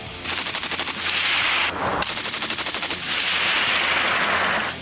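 Bursts of automatic fire from a Belgian FN MAG machine gun, two long rapid strings of loud, close shots with a brief gap between them, no talking.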